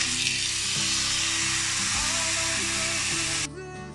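Steak searing in two tablespoons of hot olive oil in a pan makes a loud, continuous crackling sizzle close by, with music underneath, cutting off abruptly near the end.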